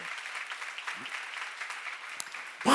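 Applause from a congregation at a church seminar, a steady patter of clapping that runs on before swelling louder at the end.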